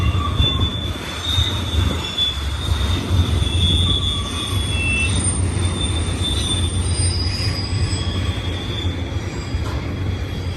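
A BNSF cargo train rolls past near the old Cajon depot site with a steady, heavy rumble of wagons and repeated high-pitched wheel squeals ringing over it throughout.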